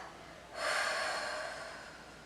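A single long, breathy exhale during a Pilates roll-down, starting abruptly after a short pause and slowly fading, close and alone with no talk.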